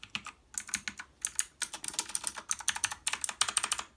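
Brisk, crisp typing on a VictSing TKL mechanical keyboard with clicky blue switches, keystrokes coming in quick irregular bursts, close and clear with no voice.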